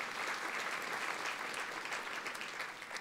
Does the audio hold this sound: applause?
yes